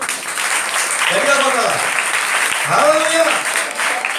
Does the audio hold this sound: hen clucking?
no